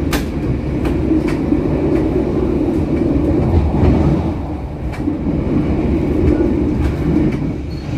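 An Indonesian KA Brantas passenger train, heard on board near Babadan station, rumbles steadily along the rails with a continuous low roar, broken by faint rhythmic clicks from the wheels over the track joints.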